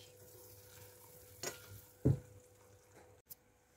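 Flour with oil or butter heating in a saucepan and being stirred for a roux: a soft, steady sizzle under a few sharper scrapes and taps of the utensil against the pan, fairly quiet.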